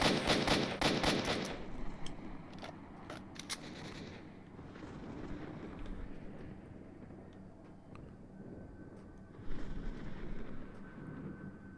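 Rapid bursts of gunfire from the video game Stalker: Shadow of Chernobyl crackle loudly for the first couple of seconds, followed by a few isolated shots and a lower rumbling background, with a brief louder burst near the end.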